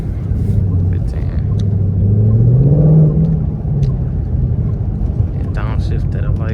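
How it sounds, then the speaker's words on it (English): A 2019 Ford Mustang GT V8 rumbles from inside the cabin as it downshifts, the engine note swelling to a peak then easing back, with people talking over it. "downshift that I like"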